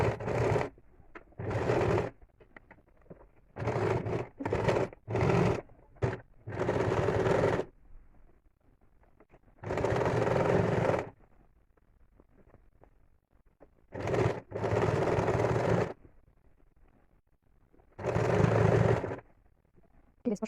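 A sewing machine stitches a quilted seat cushion in a series of loud, close bursts of rapid stitching, broken by short quiet pauses between runs.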